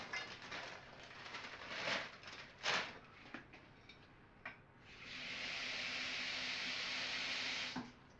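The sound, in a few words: water poured into cooking pot with lima beans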